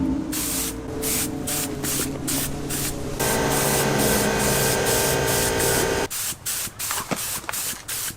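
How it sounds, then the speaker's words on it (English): Paint spray gun loaded with paint firing test shots for an Infiniti G35 engine bay, a loud steady hiss that runs several seconds, shifts tone midway, then breaks into short bursts near the end. "I'm gonna go ahead and load it up with paint right now and then just get a few test shots"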